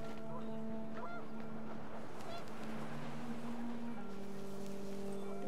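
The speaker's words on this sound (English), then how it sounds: "The wind picked up, and panicked geese appeared and quickly went." Panicked geese honk in a windy outdoor scene in the game What Remains of Edith Finch, a cluster of nasal calls over steady wind and ambient hum, fairly faint with no talk.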